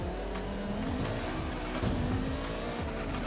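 An Audi Sport Quattro in Forza Horizon 5 roars steadily close up, engine droning continuously with bursts of tire squeal and skidding throughout.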